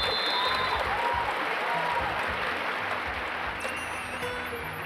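A studio audience applauds warmly on a Taiwanese variety talk show after a live band performance, with sustained, even clapping that fades slightly toward the end.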